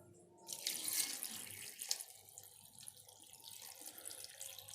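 Tap water pouring into a pot of lentils, onion, tomato, carrot and garlic for lentil soup: a bright rushing stream for about a second that then settles into softer, steady filling.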